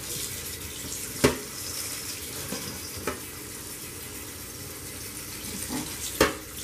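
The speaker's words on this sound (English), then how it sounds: "Swish it around so the cold water can get to it. So it can cool off." Cold tap water runs steadily over cooked spaghetti in a kitchen sink, a soft constant rush with a few louder splashes and sloshes as the pasta is swished around.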